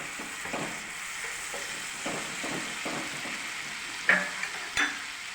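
Cashew paste being sautéed in a pan with a splash of water, a soft steady sizzle with intermittent stirring scrapes and a couple of sharp utensil clinks near the end.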